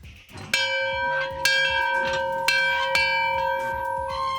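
A bell rings repeatedly with bright, sustained metallic tones, strikes coming roughly once a second and overlapping as they fade.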